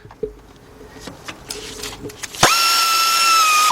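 A 3/8-drive ratchet with a 10 mm deep socket works on bolts of a 2004 Chevy Monte Carlo 3.4 engine's intake manifold, first a few sharp clicks and knocks, then a loud, steady mechanical whirr holding for over a second.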